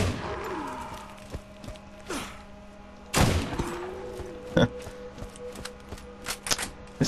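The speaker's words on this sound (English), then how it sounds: "This single-shot rifle's growing on me." Single-shot rifle fire in the shooter game Borderlands, a few sharp reports spaced seconds apart, with the loudest blast near the middle and smaller shots and clanks scattered around it over game ambience.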